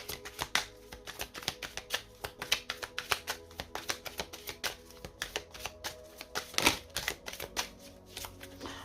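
Tarot oracle cards riffle and snap as a deck is shuffled and a card is drawn, a quick run of crisp papery clicks and flutters, close and fairly quiet.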